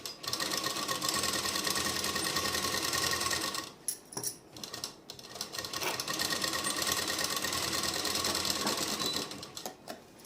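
A sewing machine stitches the lining of a suit in loud, close, continuous runs, pausing briefly around the middle before whirring on again.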